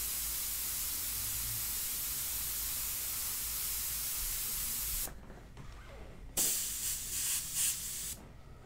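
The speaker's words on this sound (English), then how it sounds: "you want to make sure you blow out the airbrush" An airbrush sprays India ink with a steady close hiss of air that runs for about five seconds, then drops away and returns in shorter, uneven puffs.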